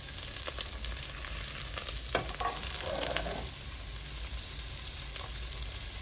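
Onions and peppers sauté in Kerrygold butter in a pan, giving a steady close sizzle with a brief stirring scrape midway and no voices.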